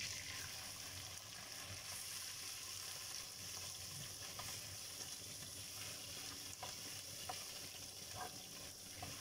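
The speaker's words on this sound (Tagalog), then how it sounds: "May mainit na tayong mantika, ilagay natin ng ginger. Gisa lang natin yan. At ilalagay na rin natin ang ating shrimp." Ginger and shrimp sautéing in hot oil, a continuous soft sizzle and crackle at low level with occasional faint stirring scrapes, no voices.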